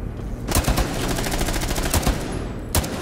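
Rapid bursts of automatic gunfire in Rainbow Six Siege, a Terrorist Hunt match, with loud close shots in quick volleys and sharp single cracks near the end, no talk.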